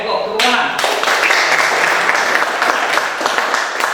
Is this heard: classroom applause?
yes